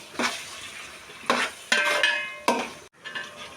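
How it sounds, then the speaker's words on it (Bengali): Mutton pieces are turned in spiced oil with a few sharp utensil scrapes and clinks against the pot, spaced out over a light sizzle, close by and without speech. "মাংসটা দিয়ে একটু নেড়ে নেব।"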